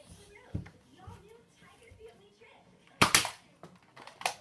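A Nerf Accustrike toy dart gun fires a few sharp, snappy pops, with one louder shot near the end, while people talk quietly nearby.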